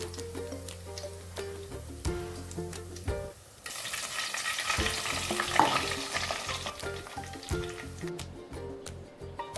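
Kerala mixture snack deep-fries in hot oil, a dense, steady close-up bubbling sizzle with stirring and scooping clatter, briefly quieter before surging again.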